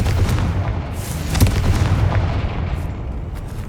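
Confringo fire-blast spell in Hogwarts Legacy going off as a dense, roaring burst with a sharper crack near the middle, filling the whole short span loudly.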